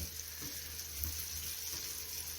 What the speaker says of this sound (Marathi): गव्हाचं पीठ घालून आपण हा मासा फ्राय करत आहोत